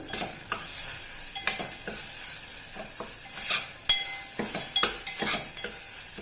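A spoon stirs a sizzling chutney mixture with asafoetida in a frying pan. Scrapes and clinks come in an irregular rhythm over steady frying crackle, close up, with no talking.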